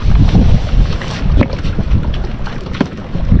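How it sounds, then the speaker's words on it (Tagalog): Steady wind buffeting the microphone outdoors on a calm sea near an island, a constant rushing roar with gusty thumps. "Medyo mahangin yung umaga namin ngayon, pero hindi naman siya maalon."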